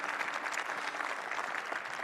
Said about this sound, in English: Yes, we can appreciate them with our applause